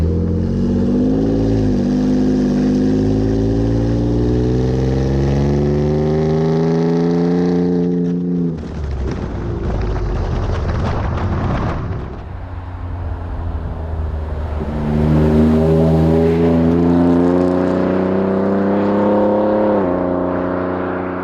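A Ford F-150 Raptor with an aFe 3-inch stainless cat-back exhaust, dual side exits, drones loudly at low revs, then after a downshift roars through rising, accelerating engine pulls, close and continuous.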